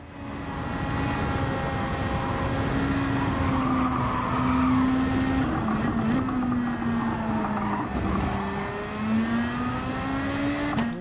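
Race car engine in Gran Turismo 7 during a daily online race, a loud continuous whine that rises and falls through gear changes and braking for a turn, with a brief tire squeal in the middle.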